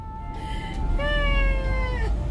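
Cats meow in two drawn-out, wavering cries, one after the other, close and fairly loud over a low rumbling background, with no talking in between.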